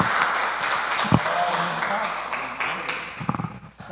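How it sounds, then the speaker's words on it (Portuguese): Church congregation applauding, a steady wash of clapping that fills the space for several seconds, with voices and cheers mixed in and a few louder claps near the end. "Dê uma salva de palmas ao Senhor."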